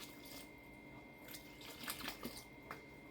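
Water trickles and splashes into a sourdough starter mix in a bowl, a faint, close liquid pour with a few brighter splashes toward the end.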